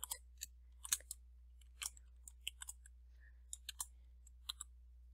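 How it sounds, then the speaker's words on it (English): A password is typed on a computer keyboard: scattered, crisp key clicks in uneven short clusters, quiet and close over a low steady hum, with no talking. "Next, we need her password, which I'm going to type."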